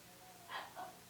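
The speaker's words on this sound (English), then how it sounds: "I got the dogs barking in the background." Dogs barking in the background during a card game session, two brief muffled barks close together, faint and distant.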